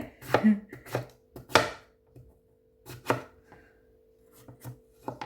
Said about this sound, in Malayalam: പടവലങ്ങ അരിയട്ടെ